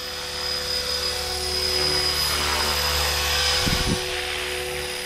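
Blade 330S RC helicopter flying overhead, a steady loud whine of rotor and motor held throughout, with a brief low thump of wind or blade wash near the end.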